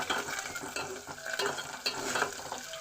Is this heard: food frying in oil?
yes